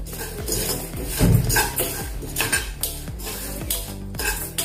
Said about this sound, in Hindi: कलर आने तक इसको भूनना है, चना दाल और उड़द दाल को